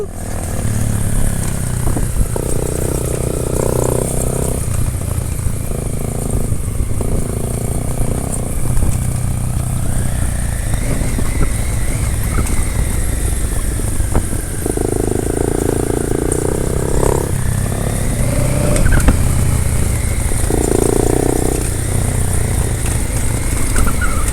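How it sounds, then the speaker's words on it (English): A Honda Africa Twin 1100cc motorcycle ridden near Manang and Khangsar, its engine droning steadily and close with rising and falling revs, wind rushing throughout. "I'm riding Africa Twin"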